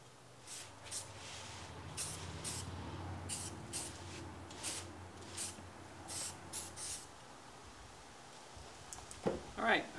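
Spray paint applied to a newly built garage project piece in repeated short bursts, close and fairly loud hisses spaced through the clip with quieter gaps between.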